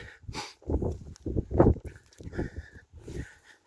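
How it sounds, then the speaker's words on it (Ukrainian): Jagdterriers moving close by on a walk, with a series of snuffling, panting and scuffling bursts in an irregular rhythm, fairly loud and near. "Собаки."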